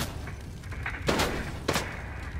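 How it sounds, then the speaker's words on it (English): Two distinct gunshots crack out about half a second apart during a Fortnite Battle Royale match. Fainter game noise and a few softer pops run under them. "There's literally a person over there shooting. Oh, yeah, then shoot him."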